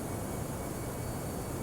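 Airbus A319 engines in the X-Plane flight simulator, a faint, steady broadband roar and hiss that holds level throughout without a clear rise in pitch.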